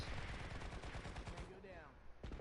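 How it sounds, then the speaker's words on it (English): Rapid laser-gun fire from the video game Planetside 2 on PS4 runs as dense, continuous bursts of shots throughout, loud and close, with chaotic battle noise around it. "Those laser guns."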